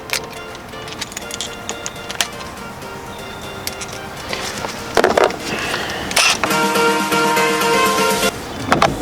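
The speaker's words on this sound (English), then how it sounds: "Now we have to undo these two screws over here, which are the Phillips drive" Phillips screws being undone on a Nissan Xterra or Frontier door panel, with small clicks and scrapes of the screwdriver, then a louder burst of rattling plastic and ratcheting near the end.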